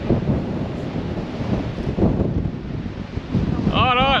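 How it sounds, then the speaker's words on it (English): Strong coastal wind buffets the microphone over rough, stirred-up ocean surf at the Bay of Isles on the Great Ocean Road, a continuous loud roar with gusts, and a brief bird-like warble near the end. "Pretty wild out here with this wind, so the ocean's really stirred up at the moment."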